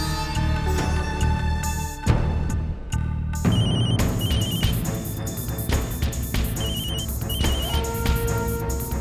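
Electronic ringing tones repeat in short bursts over a dense bed of music, with a brief quieter gap partway through.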